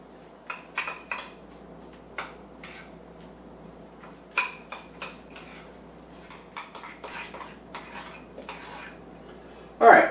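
Softened butter is mixed into low-carb donut batter in a bowl, heard as scattered utensil clinks and scrapes against the bowl, intermittent and close, with a louder knock at the end.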